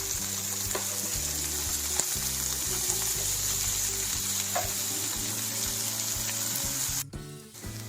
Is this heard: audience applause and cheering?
no